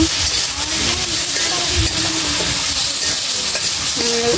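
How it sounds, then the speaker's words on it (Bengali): Vegetables sizzle and crackle in a hot pan as they are stir-fried with salt, turmeric and chili, a steady close frying hiss with faint scraping stirs and a brief tonal clink near the end. "সবজিটা কষিয়ে নেবো, কষিয়ে নেব।"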